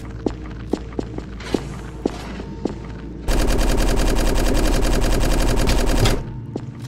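Video game gunfire: isolated footsteps and single shots at first, then a loud continuous automatic burst lasting about three seconds before stopping, with a few faint steps after.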